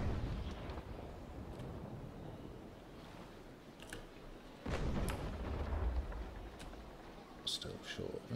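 Heavy ship cannon shots in the naval battle game Naval Action, two or three deep booming blasts and rumbles with some water wash, while someone talks quietly over them.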